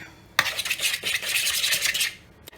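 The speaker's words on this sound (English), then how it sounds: "You have to mush it real good with the fork." A fork mashes banana in a bowl, giving a steady scraping, squishing clatter of metal against the dish for about two seconds, close and alone.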